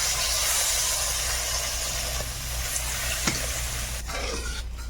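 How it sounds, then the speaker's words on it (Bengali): A spatula stirs a mustard and cumin spice paste into a sizzling curry in a pan during outdoor Sundarban cooking, scraping a few times over a steady frying hiss with no talk. "মিশিয়ে একটু নেড়ে চেড়ে নেব"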